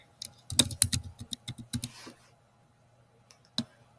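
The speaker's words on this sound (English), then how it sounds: "And then you put in a password that you can remember." A password is typed on a computer keyboard: a quick, uneven burst of close, quiet key clicks, a pause, then a single stray keystroke near the end.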